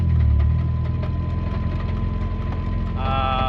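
A Mazda Miata engine drones steadily while driving in first gear after a gearbox failure, a loud, rumbling, vibrating hum with a faint whine on top, constant throughout the short stretch.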